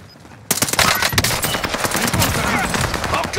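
Dense, rapid bursts of automatic gunfire in Call of Duty: Warzone on Rebirth Island erupt after a short quiet start and continue loudly to the end, with layered shots and explosions typical of game combat.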